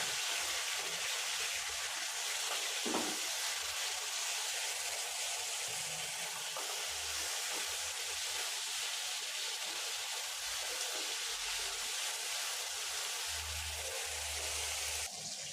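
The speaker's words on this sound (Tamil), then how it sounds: "ஒரு ரெண்டு நிமிஷம் மட்டும் நம்ம வதக்கி எடுத்துக்கிட்டாலே போதும்" Sliced bitter gourd sautés with turmeric in a hot pan, giving a steady, close sizzling hiss that runs unbroken throughout, with a few faint low knocks underneath.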